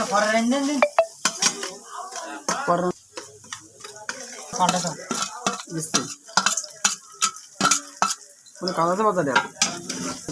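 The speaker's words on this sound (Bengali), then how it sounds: "ভালোভাবে এগুলো কষায় নিতে হবে" Chili and onions are stirred and sautéed in a pan: a spatula scrapes and clatters in quick uneven strokes over a light sizzle, while someone talks throughout.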